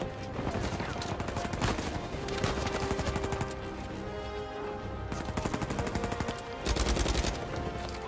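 Rapid bursts of gunfire from the video game Uncharted 4 rattle almost continuously throughout, loud and dense, with short pauses between volleys and other game sounds mixed in.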